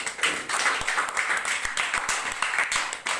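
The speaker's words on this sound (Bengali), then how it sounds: "সবাই একটা জোরে হাততালি দাও।" Children in a drawing class clap loudly together, a brisk, uneven burst of many hands at close range that keeps going throughout.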